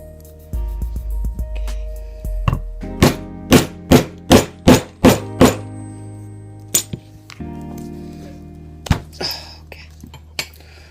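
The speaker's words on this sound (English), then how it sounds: "now I have my holes punched" Leather being punched for a leash: a series of about eight sharp, evenly spaced metallic strikes, likely a hammer on a hole punch, loud and close, with a few scattered knocks and handling noises before and after.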